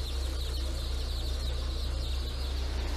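Chicks in an industrial hatchery chirp in a continuous high-pitched chorus over the steady hum of sorting machinery, loud and constant throughout.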